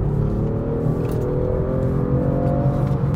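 A 2019 Genesis G70 accelerating hard, its engine note climbing steadily and loud throughout, close up with no talk.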